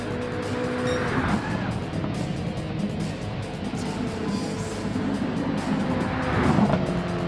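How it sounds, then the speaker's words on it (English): Rear-wheel-drive and all-wheel-drive street-modified 750PP race cars in Gran Turismo 7 roar steadily through a Japanese street circuit, engines droning with tire squeal and cars sweeping past, loud and continuous throughout. "As Bing rounds the final corners, he has shown the world that in a world of all-wheel drive cars, that rear-wheel drive can still compete"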